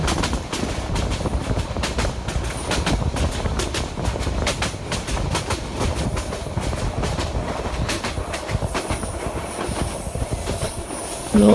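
A long express train rolls steadily through the Bangladesh railway game Train Sim Bangladesh, its wheels clattering in continuous clickety-clack over a dense rumbling roar, loud and close throughout with no talking.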